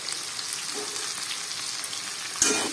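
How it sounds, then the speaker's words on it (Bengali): Chopped bell peppers, onions and green chilli fry in a pan for homemade dry chilli chicken, making a soft continuous sizzle, with a sharper burst near the end as something is stirred or added. "আমার বেল পেপারগুলো যে কেটে রেখেছি সেগুলো দিয়ে দেব"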